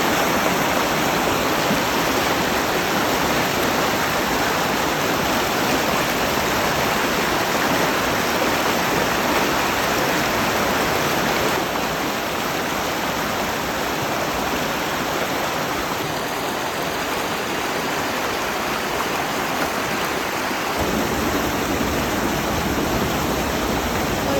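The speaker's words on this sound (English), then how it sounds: "We have a waterfall on the property." Steady, dense rush of a waterfall pouring close by, loud and continuous throughout with no breaks.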